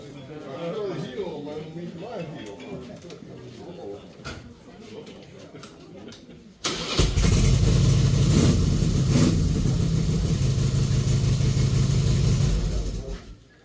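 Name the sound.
Harley-Davidson motorcycle engine running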